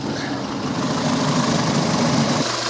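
A 2007 Peugeot 207 1.4 16-valve petrol engine with a blown head gasket idles steadily to warm up, producing a continuous close, loud hum and rumble throughout with no talking.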